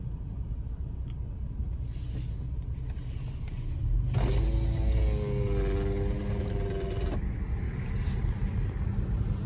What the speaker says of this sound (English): Looks like we got us a transport hauler right here. Running a Dodge Cummins.